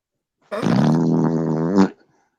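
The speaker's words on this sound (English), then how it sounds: "Did Joe Biden fart?" A bulldog lets out one loud, sustained fart lasting over a second, a rough buzzing blast with a slight rise at the end, heard up close and alone.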